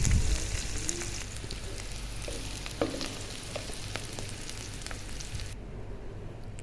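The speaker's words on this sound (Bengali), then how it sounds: "তো তেল দিয়ে দিলাম প্রথমে ফার্স্টে, তারপরে পেঁয়াজ কুচি দিয়ে পেঁয়াজটা ভেজে নেব" Chopped onions frying in oil for a mutton bhuna: a dense, even crackling sizzle fills the whole stretch, with a few soft stirring knocks, close and continuous.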